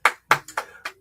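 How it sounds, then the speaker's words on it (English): Four sharp hand claps in quick succession, close and crisp, with no other sound between them. "I'm clapping because you acknowledge that you had a hoochie mama era"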